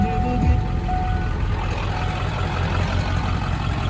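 The diesel engine of a 1996 Ford F-350 pickup idles in a steady, loud low rumble throughout, with a faint hum and some cabin noise layered over it.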